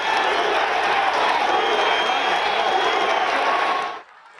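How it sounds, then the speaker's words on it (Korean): Crowd at a Trump campaign rally roaring and cheering after a shooting, a loud dense wall of voices that cuts off abruptly near the end, leaving quiet. "트럼프는 총격을 받고 경호원들에 둘러싸인 상황에서도 지지자들을 향해 주먹을 들어 보이며 건재를 과시하자 환호가 터져나왔습니다"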